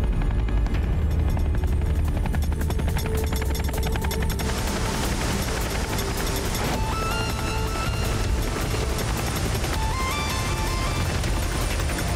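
Cartoon sound effect of a bicycle flying in helicopter mode in an animated action show: loud, continuous rotor-like chopping and whirring with rapid mechanical rattle, rising tones and synthetic zaps layered over it, with no talking.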